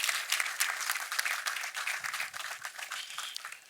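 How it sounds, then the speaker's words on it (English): An audience claps steadily for President John Mahama at the inauguration of the GOLDBOD Task Force, a dense round of applause that holds for a few seconds with a slight fade toward the end. "I think he deserves a round of applause."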